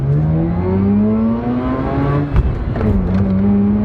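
A small 1.3-liter car engine revs loudly, its pitch climbing steadily, dipping briefly at a gear change, then rising again.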